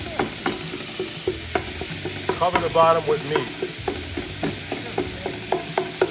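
Ground meat browning in a pan for Bolognese, with a steady close sizzle broken by scraping stir strokes and utensil clicks, and someone speaking briefly midway.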